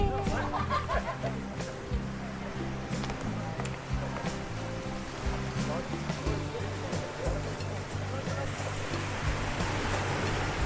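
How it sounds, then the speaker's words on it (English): Ocean surf of the South China Sea at Mersing, Malaysia, reached after a hike down Mount Arong: a steady, broad wash of breaking waves fills the scene, with music running throughout and brief laughter in places. "we finally reach the ocean. This is the South China Sea"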